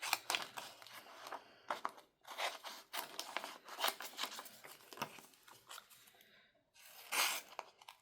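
Scissors cut apart pieces of craft vinyl sheet made on a Cricut Joy Xtra, producing close, crisp bursts of slicing and crinkling that come in irregular runs with short pauses between cuts.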